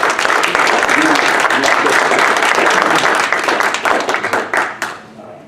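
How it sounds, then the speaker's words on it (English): A crowd at an OCPAC event applauds steadily with loud, dense clapping that fades out over the final second. "let's give James Taylor a big OCPAC applause"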